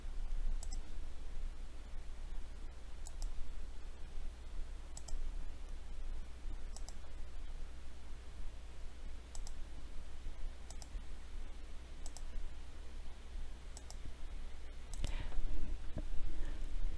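A computer mouse clicks during drawing work in Adobe Illustrator, single sharp taps spaced roughly every second or so in a regular rhythm, close and crisp over a low steady hum, with a brief cluster of louder handling noise near the end.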